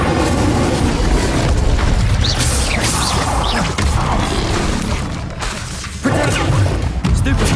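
A fire spell cast in the Hogwarts Legacy video game booms and crashes across a steady roar of dense, loud combat noise. Several sharp impacts land throughout, with faint speech underneath.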